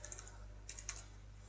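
Keys tap quickly on a computer keyboard, two short clusters of light clicks close by in a quiet room, with no voices.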